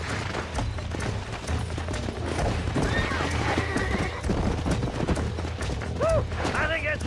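A horse whinnies and snorts over steady galloping hoofbeats and a dense, busy background in the video game Red Dead Redemption, with a voice talking across much of it.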